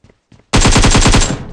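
A loud, close burst of automatic rifle fire in the battle royale game PUBG Mobile, about ten rapid evenly spaced shots in one second, after a brief quiet gap.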